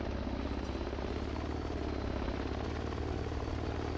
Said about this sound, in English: Get in the chopper, please.